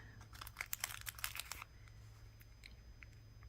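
A small plastic bead bag is crinkled and handled up close during jewellery making, giving a quick cluster of crisp rustles and crackles that then thins to a few faint rustles.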